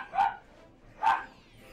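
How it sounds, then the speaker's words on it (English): A dog barks twice, close by and sharp, the two short yelps about a second apart with quiet in between. "the dog's barking is gonna be a big freaking interruption"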